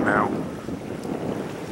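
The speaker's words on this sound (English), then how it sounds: "bear with me, it's gonna get loud. I'm facing into the wind now." Strong wind buffets the microphone while paddling a kayak into a headwind on Panther Bay, a loud, steady broadband roar with gusty swells throughout and no clear speech.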